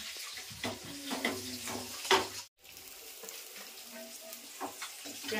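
An omelette fries in a hot pan in a home kitchen, a soft close sizzle with faint scraping and spatula clinks, briefly cut by a short gap before the frying resumes.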